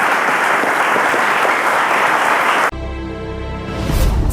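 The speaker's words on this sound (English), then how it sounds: "Let's give them a round of applause." Applause from a TV quiz show studio audience, a loud, steady wash of clapping that cuts off sharply partway through, followed by music-like tones.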